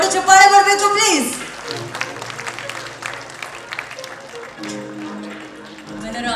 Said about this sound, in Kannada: ದೊಡ್ಡ ಚಪ್ಪಾಳೆ ಬರಬೇಕು ಪ್ಲೀಸ್